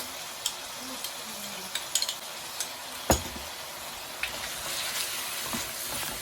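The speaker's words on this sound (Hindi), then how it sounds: "इसको अच्छी तरह भूनेंगे इसके अंदर" Minced keema frying with garlic ginger paste in a pan, a soft steady sizzle broken by sharp scattered clicks and scrapes of stirring, one louder knock near the middle, and no talking.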